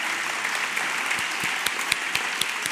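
Audience applause at an arts talk event, a steady dense wash of clapping from a crowd in a hall, with a few sharper individual claps standing out, continuous for the whole stretch and no voices.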